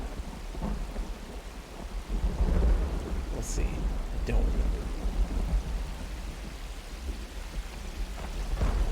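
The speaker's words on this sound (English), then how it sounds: "We're just walking through a storm right now, no big deal." Thunderstorm in the game Myst Online: Uru Live, steady rain hiss with low rolling thunder rumbles swelling and fading throughout, a brief faint voice speaking near the start.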